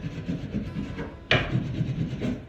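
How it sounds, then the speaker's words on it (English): Candle wax is rubbed hard across a rustic wooden surface, pressed sideways into the knots, giving a steady close scraping rasp with one sharper, louder stroke partway through. "I've gone over these two sections with my candle, and on the knots I've used it sideways, just really digging in"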